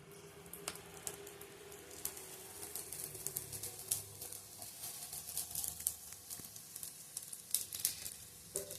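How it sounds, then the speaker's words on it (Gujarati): Ghee sizzles steadily on a hot griddle (lodi), a continuous close crackle with scattered sharper pops, without speech. "આપણે લોટી તપી દઈએ છીએ એમાં આપણે થોડું ઘી મૂકીશું"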